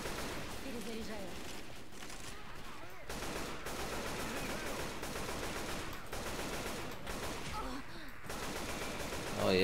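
Left 4 Dead 2 gunfire rattles in repeated automatic bursts through a busy, noisy soundscape, moderately loud and mixed with a talking voice.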